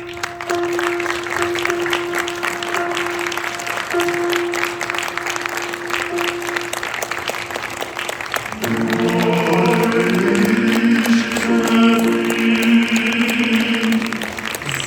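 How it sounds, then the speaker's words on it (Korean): Wedding guests at a Seoul wedding hall applaud and cheer as the bride enters, a steady wash of clapping that swells louder and fuller partway through as music rises alongside it. "신부님의 발걸음 한 걸음 한 걸음마다 뜨거운 박수와 환호 부탁드립니다"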